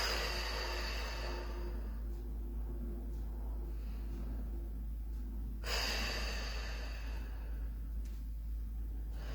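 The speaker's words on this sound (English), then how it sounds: "Let's breathe in and breathe out." Slow, deep breaths drawn in and let out during a guided meditation, soft airy hiss over a steady low hum, with no talking.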